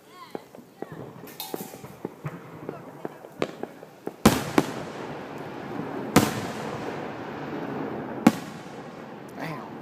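Fourth of July fireworks go off in sharp cracks and booms, a scatter of small pops giving way to several big bursts with crackling tails, while people talk nearby.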